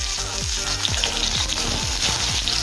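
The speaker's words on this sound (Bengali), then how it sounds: "2 মিনিট মতো সময় নিয়ে আমটা একটু ভেজে নেব।" Mango pieces frying in hot mustard oil with dried red chillies and five-spice in a pan, a bright continuous sizzle with crackling pops and a few low clinks of stirring in between.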